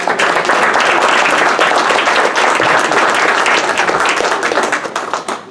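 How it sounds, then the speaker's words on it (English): A live audience claps in a sustained round of applause at a talk about World War II prisoners of war, dense and steady throughout before tapering slightly at the end. "How about a round of applause?"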